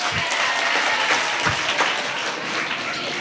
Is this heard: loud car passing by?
no